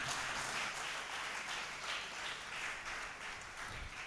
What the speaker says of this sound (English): just to give an applause to the deacons.